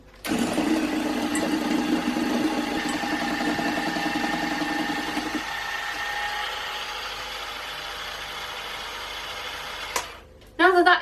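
An electric mixer beats raspberry cupcake batter until light and fluffy, a steady motor whirr that drops in pitch partway through, then stops with a brief clatter.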